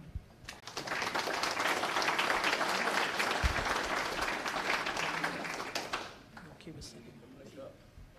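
Warm applause from a seated audience at a monthly meeting of the Republican Seniors of Minnesota as a guest speaker is welcomed: steady, dense clapping that swells, holds for several seconds, then thins out and fades, with a voice heard near the end.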